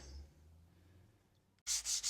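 Woodworking sander smoothing guitar binding flush with the wood on a fabric-top Telemaster build: after a near-silent stretch, loud, close rasping strokes come in quick pulsing bursts, with no voices.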